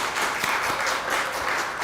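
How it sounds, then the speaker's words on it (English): Steady audience applause at a 2021 college convocation ceremony in Montego Bay, a dense, even wash of clapping from a large crowd that holds at a constant level throughout the short stretch. "So can I ask for another rousing round of applause and some thumbs up on YouTube?"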